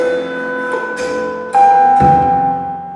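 Acoustic guitar notes ring out slowly in percussive fingerstyle with sharp slaps and taps on the body, loud and close, each hit leaving a sustained tone.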